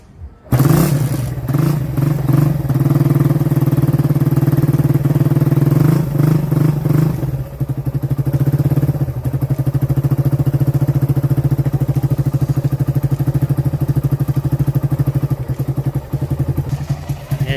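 Suzuki Rider 150 carbureted motorcycle kick-started after a brief clatter, then its engine runs loud and close with a steady throbbing idle and slight revving, no talking throughout.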